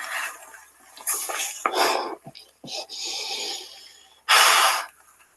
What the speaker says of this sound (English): you can really hear her sniffing that odour up through the ground